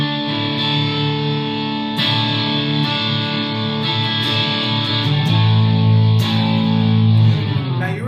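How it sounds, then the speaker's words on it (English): Electric guitar played through a Line 6 HD500X with a delay effect, a sustained distorted tone with repeats trailing each picked note, with several strums and attacks over eight seconds, close and loud. "The first delay that I have sounds like this."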